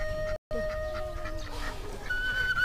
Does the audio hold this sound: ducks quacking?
yes